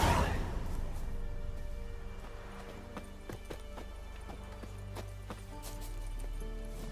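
Roach the horse galloping in The Witcher 3 game, rapid rhythmic hoofbeats under a low game ambience, close and moderately loud.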